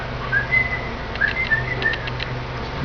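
A person whistles a short, wavering tune of several high notes, fairly close and clear over a low background hum, with no talking.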